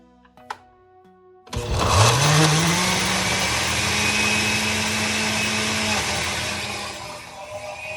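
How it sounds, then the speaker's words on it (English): A smoothie mixer blending onions and tomatoes until liquid for a meat flatbread: a small click, then the motor starts abruptly and whirs loud and steady, slowly easing toward the end. "the onions and the tomatoes are in the smoothie mixer"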